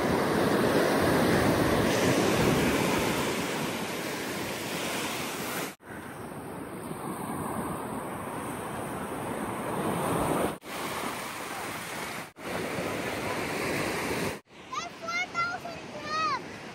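Big ocean waves roll and crash onto the shore during a beach vacation, a loud surf roar buffeted by wind on the microphone, with excited voices and a child calling out.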